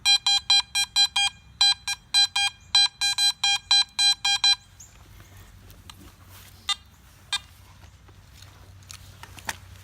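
A metal detector sounds over a buried wheat penny with a rapid series of clipped, regular high beeps in short bursts, then falls silent, leaving soft scuffs and scattered taps outdoors.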